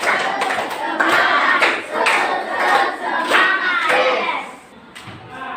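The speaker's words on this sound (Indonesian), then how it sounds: "Kita tepuk semangat dulu" Classroom group doing a rhythmic spirit clap, a series of sharp claps in bursts mixed with loud children's shouts and chanting voices, busy and close throughout.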